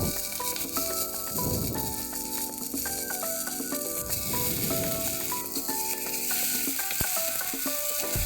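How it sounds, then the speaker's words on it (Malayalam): Chopped robusta banana sizzles steadily in a pan for a Kerala mezhukkupuratti stir-fry, with close scraping and clattering of a spoon stirring it through the hot oil, no talk. "ഇപ്പോൾ നമുക്ക് അരിഞ്ഞു വെച്ചിരിക്കുന്ന റോബസ്റ്റ് കായ ഇതിലോട്ട് ചേർത്ത് കൊടുക്കാം."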